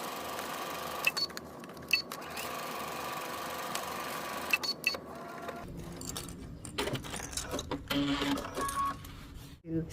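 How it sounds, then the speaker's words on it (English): A sewing machine stitches a seam at a steady pace, a faint rapid mechanical whir and tapping, pausing and restarting partway through. "we're going to take this to the machine and we're going to stitch a 5/8 of an inch seam"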